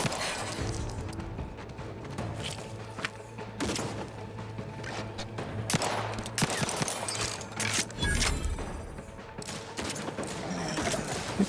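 Gunfire in the Outer Worlds 2 video game, a dense run of rapid shots and impacts over a busy game soundscape, loud and continuous throughout.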